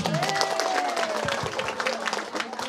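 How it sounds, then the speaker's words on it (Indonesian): Applause breaks out at a community aspiration forum, a crowd clapping throughout while a voice carries briefly over the start and murmuring chatter runs beneath. "Jadi mangga Ibu, tepuk tangannya tuh."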